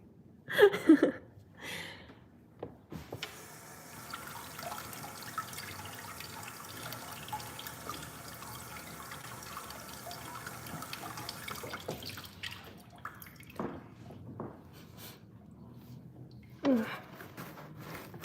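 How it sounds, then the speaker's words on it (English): Water runs from a household tap while hands are washed at a sink, a steady hiss and splash lasting most of the stretch, with a few louder knocks near the start and end and no talking. "Let me wash my hands real quick."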